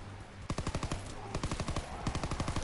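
Rapid automatic bursts from a PPSh submachine gun in a WW2 video game, loud and close, firing in several quick strings of shots separated by brief pauses.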